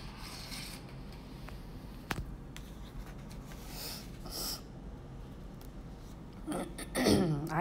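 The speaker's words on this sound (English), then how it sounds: "coughing." A person with a lingering cold clears their throat with a few short rasps, including one sharp catch partway through and a rougher cluster near the end, over faint rustling.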